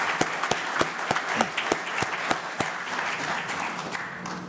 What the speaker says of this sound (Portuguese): Nós solicitamos uma salva de palmas às marcas vencedoras da categoria Liderança